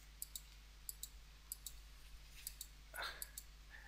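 Computer mouse clicking while working in AutoCAD Plant 3D: crisp, close clicks, several of them paired as quick double clicks, spread across a few seconds over a faint steady hum, with a brief soft rustle midway.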